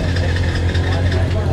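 A midget race car engine at a speedway runs in a steady, loud, close idle right after being fired up, a dense low rumble with an even, unbroken throb throughout.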